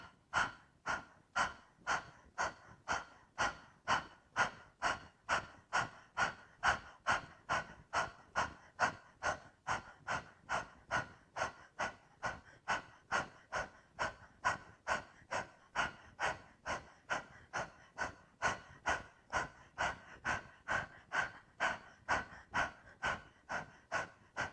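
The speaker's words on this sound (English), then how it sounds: "we're going to take a breath in and then sharp draw with the navel" Yoga breathing exercise with sharp, forceful breaths drawing the navel in, repeated about twice a second in an even, close rhythm for the whole stretch.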